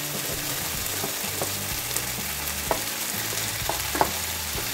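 Vegetables sizzle and fry in a hot pan, a dense, steady crackle close by, broken by the scrape and clack of stirring.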